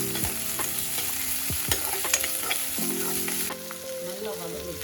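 Curry leaves sauté and sizzle in hot oil in a pan for a dry cauliflower gravy, with a steady loud frying hiss, spitting crackles and several clinks of a spoon stirring against the pan.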